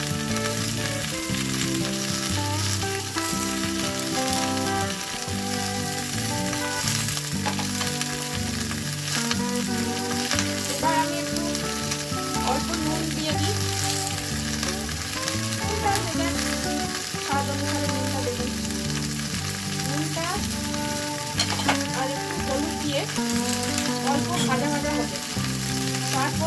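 Vegetables fry in a pan in a little oil, a steady close sizzle and crackle that lasts throughout, with occasional stirring scrapes and no talking.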